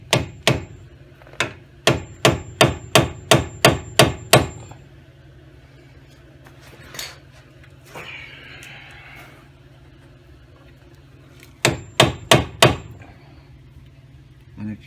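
A hammer strikes a steel punch to drive out the wheel knuckle bolt on a Ford Escape during a wheel bearing replacement: two sharp bursts of about eight rapid metallic blows each, separated by a quiet gap with faint clatter and brief talk.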